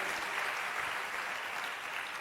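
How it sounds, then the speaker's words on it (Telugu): A church congregation claps together in praise, a steady, soft wash of applause heard from some distance. "చప్పట్లు కొట్టి దేవుని మహిమపరచును."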